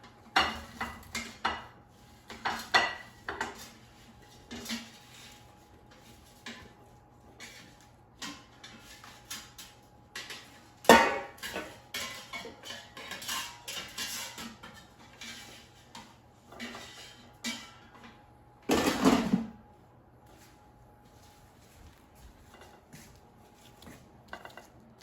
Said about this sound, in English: Let me take them out of the air fryer.